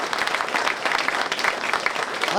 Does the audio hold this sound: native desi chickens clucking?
no